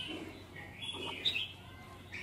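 A young red-whiskered bulbul (chào mào), six or seven months old and kept in a cage, gives a few short, high chirping calls, faint and brief against a quiet background.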